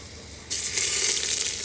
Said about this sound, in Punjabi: ਤੇਲ ਇੰਨਾ ਜ਼ਿਆਦਾ ਗਰਮ ਹੋ ਗਿਆ ਨਾ ਵੀ ਲਸਣ ਵੀ ਨਾਲ ਦੀ ਨਾਲ ਭੁੱਜ ਗਿਆ